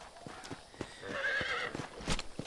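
Horse neighing and hooves clip-clopping in the video game Red Dead Redemption, a rising whinny over a rhythmic run of hoofbeats, moderately near.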